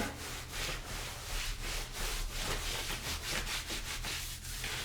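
Hands rub briskly over skin during a movement warm-up, a continuous close brushing friction with quick rhythmic back-and-forth strokes and no voices.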